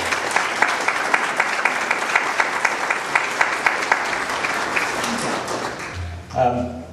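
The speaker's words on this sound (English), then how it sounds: "Let's give you a round of applause." Audience applause at a police department multicultural committee reception, honoring elected officials; steady clapping from a room of people for about six seconds, tapering off with a voice beginning to speak near the end.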